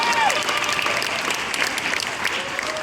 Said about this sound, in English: One last round of applause for them as well.